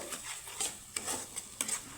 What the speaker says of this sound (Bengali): তো এখানে আমি মশলাটা সুন্দরভাবে কষিয়ে নেব